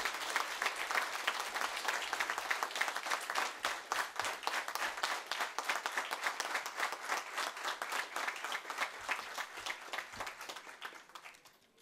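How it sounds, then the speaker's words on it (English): A large conference audience of company secretaries applauding, continuous dense clapping at an even level for over ten seconds before tapering off at the end. "A big round of applause for all our team."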